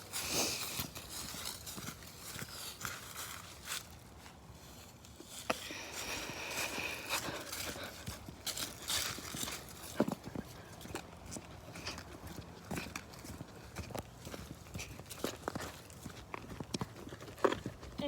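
A horse walks around restlessly during hoof soaking, hooves clip-clopping in an irregular, continuous rhythm on a hard surface, moderately close, with faint ambient noise and no talk.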